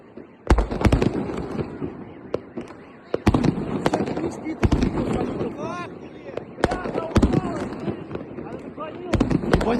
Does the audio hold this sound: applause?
no